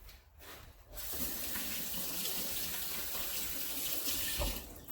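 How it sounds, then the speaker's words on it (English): Hands are rinsed under a running tap, a steady close splash of water that starts after a brief quiet moment and continues evenly before easing off at the end. "Like I say, I rinse my hands a lot."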